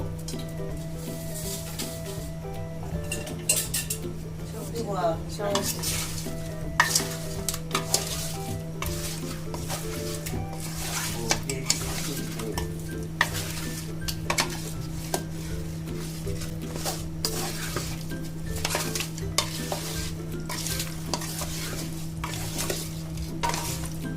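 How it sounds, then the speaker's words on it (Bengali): Mirka fish frying in a pan with turmeric and salt, a steady sizzle mixed with frequent clinks and scrapes of a utensil against cookware, continuing close and even throughout with a constant low hum beneath. "এটাতে হলুদ দিয়ে দিছি আর লবণ দিছি, আর একটু লবণ দিয়ে দিলাম, ভেজে নেব।"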